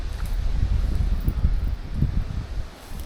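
Strong wind gusting outdoors beside a river while fishing for trout, a steady low roar with rustling buffeting the microphone throughout, no speech.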